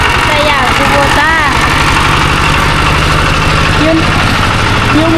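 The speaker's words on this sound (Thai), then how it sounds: "นี่ รถไถ สยามคูโบต้า" A Siam Kubota farm tractor engine idles nearby with a steady, loud, low mechanical chug, while voices talk over it.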